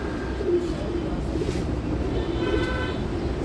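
Racing pigeons coo in soft, low, repeated calls over a background of outdoor hum. A faint tonal toot sounds partway through, and someone speaks nearby.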